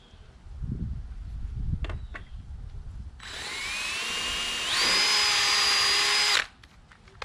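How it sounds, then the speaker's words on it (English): A power drill pre-drills screw holes with an eighth-inch bit in a storm door frame on a greenhouse, a close, loud whine rising in pitch over about three seconds after a few faint knocks, then cutting off. "just pre-drill your holes"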